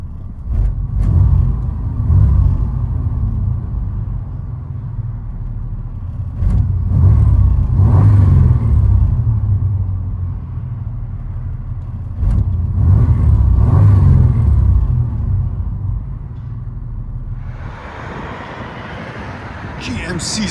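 Inside the cab of a 1992 GMC Sonoma with a 4.3L V6 and knockoff Flowmaster dual exhaust, a deep muffled rumble swells in several rev-ups and settles to idle, with a voice speaking over parts of it.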